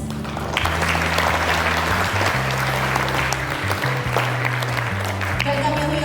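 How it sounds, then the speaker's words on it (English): Loud, steady applause from a school audience welcoming quiz competition participants on stage, continuous clapping over a low hum that carries throughout. "So let's welcome them, all the participants, with a huge round of applause."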